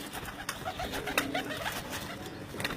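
Teddy Salara pigeons from a home loft cooing softly, with a few short coos and wing or perch sounds over a steady low background, no talk.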